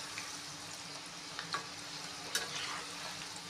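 Modak dumplings frying in a little oil over a low flame, a steady soft sizzle with occasional light stirring clicks and bubbling pops, close by and fairly quiet.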